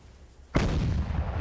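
A Vanquisher Cannon in a video game fires a high-explosive shell, a single sudden heavy boom that bursts in after quiet and rolls on as a loud, sustained rumble.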